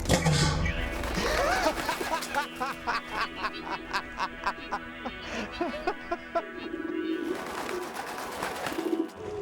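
Pigeons coo in low, rolling calls over a busy outdoor backdrop, with a rhythmic series of sharp taps and occasional squawks from other birds.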